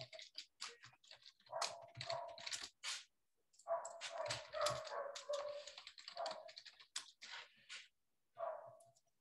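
A dog barks repeatedly in short bursts, separated by brief pauses and clearly audible throughout with no talk over it, although it sounds closer than distant.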